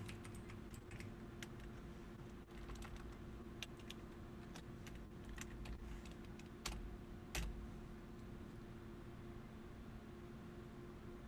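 Faint clicking from a mechanical keyboard picked up by a desk microphone, scattered irregular keystrokes with a couple of sharper clacks, buried in steady background hiss and hum.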